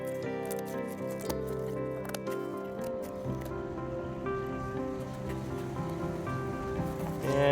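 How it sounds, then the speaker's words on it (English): Scissors snip away the excess paper from a small Homer Simpson donut piñata, with a series of short, crisp cuts and rustling paper in a quiet room, close up, against faint background music. "Cut off the excess of the paper."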